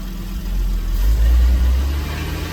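A Porsche Boxster 986 engine, not yet at full temperature after idling, rises from a low idle into a short rev and settles back, close and moderately loud with no talk.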